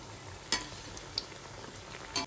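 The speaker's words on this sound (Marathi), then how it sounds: "तुम्ही हे तुपामध्ये सुद्धा तळू शकता किंवा तेलात सुद्धा तळू शकता." Coconut karanji frying in hot ghee or oil, giving a steady close sizzle with a few brief louder crackles and spatters.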